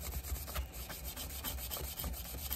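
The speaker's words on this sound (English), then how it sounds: "I did get some 400 grit sandpaper out to try to move this along a little faster." A Schrade Bear Hunter LB-5 knife being sanded with 400 grit sandpaper, a steady, close, quiet rubbing scrape in quick back-and-forth strokes.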